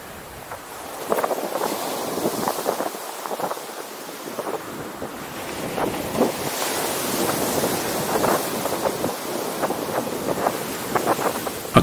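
Ocean surf and gusting wind on the shingle beach at Dungeness Point, a continuous broad roar with breaking waves swelling and fading and wind buffeting the microphone throughout, no voices.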